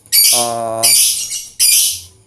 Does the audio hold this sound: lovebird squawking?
yes